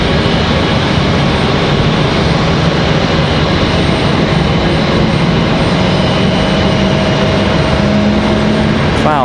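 JetBlue jet airliner inbound from San Juan, Puerto Rico, arriving at Raleigh-Durham airport, a loud steady engine roar filling the whole stretch, with a rising tonal whine toward the end.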